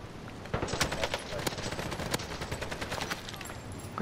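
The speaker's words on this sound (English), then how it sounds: "I'm getting shot from behind." Rapid automatic gunfire in a video game, coming from behind, rattles as a fairly faint stream of crackling shots with several sharper bursts.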